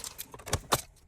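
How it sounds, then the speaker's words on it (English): Keys going into the ignition of a VW Crafter van, a few light metallic jingles and clicks in quick succession, close and quiet. "let's just put the keys in the ignition"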